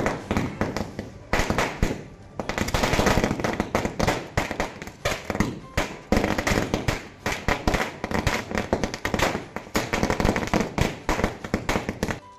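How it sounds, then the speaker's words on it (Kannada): Strings of firecrackers set off by fans celebrating an election win in Karnataka burst in a loud, dense, rapid crackle, continuing for the whole stretch with only a few short pauses between volleys. "ಮಂಜುನಾಥ್ ಗೌಡರ ತಂಡವು ಗೆಲುವು ಸಾಧಿಸುತ್ತಿದ್ದಂತೆ ಅಭಿಮಾನಿಗಳು ಪಟಾಕಿ ಸಿಡಿಸಿ ಸಂಭ್ರಮಿಸಿದರು."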